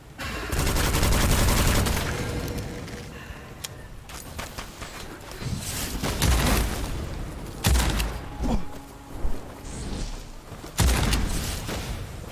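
Rapid gunfire in the first-person roguelike Witchfire, with dense bursts and booming shots through most of the stretch and loud fresh volleys near the end.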